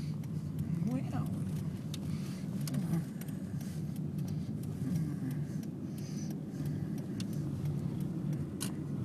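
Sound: car traffic passing on a city road

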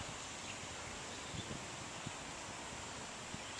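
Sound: wind

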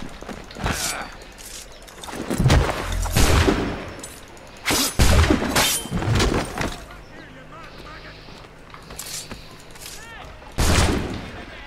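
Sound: gunshots in a video game

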